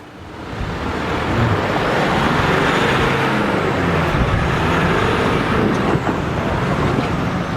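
A Jeep drives along a rough off-road track in high country with snow patches, its engine and tyre rumble a loud, steady roar throughout.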